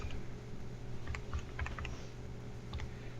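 Soft, quick key presses on a calculator as a calculation is entered, a scattered handful of faint taps over a steady low room hum.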